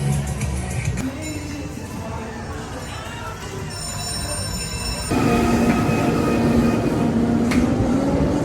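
A rattling amusement park ride at Dorney Park clatters and rumbles steadily, with metallic squeals and ringing tones over a continuous mechanical roar that grows louder partway through.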